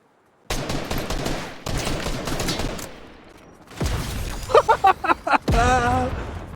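Bursts of Fortnite gunfire, a couple of sustained automatic volleys and a run of rapid sharp shots, loud and close, with a voice talking briefly between the shots.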